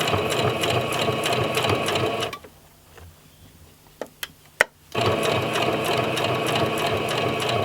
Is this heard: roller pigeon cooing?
no